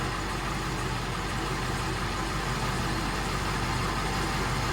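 A straight-piped 7.3 Powerstroke diesel in an old dump truck idles steadily, a dense, constant low rumble with no voices over it.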